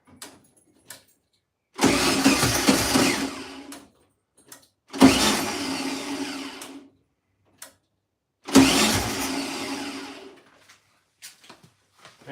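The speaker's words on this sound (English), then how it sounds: "that is only hitting the starter once" A 1972 Volkswagen Beetle, restarted after sitting two years, cranks on its starter in three separate loud bursts of about two seconds each, with quiet gaps and faint clicks between them.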